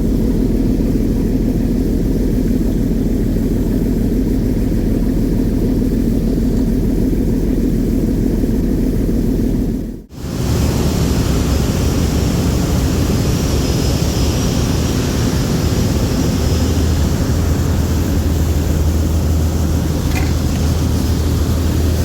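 Engine and propeller thrust at the stern of the M Khan-7 passenger river launch, a loud, steady low roar and churning wash heard close up, continuous throughout with a brief dip partway through.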